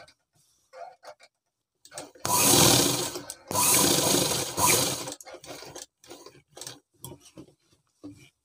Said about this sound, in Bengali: দিয়ে আরেকটি সেলাই করে নেব এটা